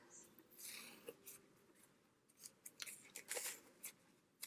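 Scissors cutting washi tape for a small handmade tab journal: a quiet run of sharp, crisp snips in an uneven rhythm, close and alone.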